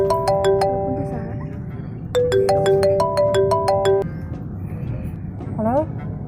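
A telephone ringtone plays two bursts of bright repeating electronic tones, the second longer, loud and close, with background chatter and a short rising chirp near the end.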